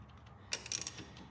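A ratchet tightens a bolt on a Cub Cadet 882 tractor driveshaft, giving a short close run of several quick clicks after a quiet start.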